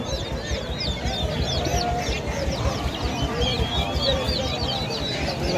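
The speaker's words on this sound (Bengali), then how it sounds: "চিলা মুরগি আছে" Many birds call at once at a village poultry market, with busy clucking and chirping from a crowd of chickens close by, continuous and lively throughout.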